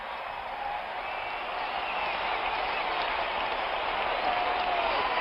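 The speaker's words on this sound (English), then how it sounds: "Listen to this crowd." A stadium crowd at a Dallas Cowboys football game roars in a dense, steady wash after a turnover gives Dallas the ball, loud and sustained without a break.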